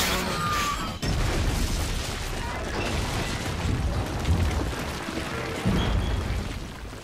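A loud burst of explosion rumble from Saints Row 4 sits close up, with a sharp low boom near the start and sustained crashing, rumbling game noise afterward under a talking voice.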